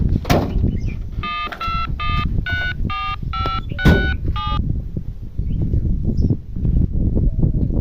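A rapid series of about ten phone keypad tones beeps in quick succession over a steady outdoor background noise, with a couple of sharp knocks.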